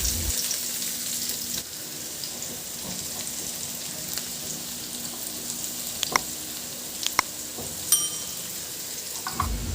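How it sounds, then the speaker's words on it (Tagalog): Garlic and onion sauté in hot oil in a pan, a steady close sizzle with occasional sharper crackles and a few light stirring clicks, no voices. "Maglagay muna ako ng mantika sa kawali at painitin at igisa ko na yung bawang. Igisa ko na rin yung sibuyas."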